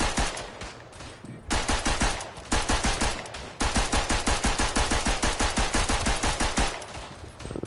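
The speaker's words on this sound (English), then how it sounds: "Been playing with a machine pistol all night here." A machine pistol in a Western Front shooter video game fires long, rapid automatic bursts, each a dense stream of sharp, loud cracks, with brief gaps between bursts and no talk over the gunfire.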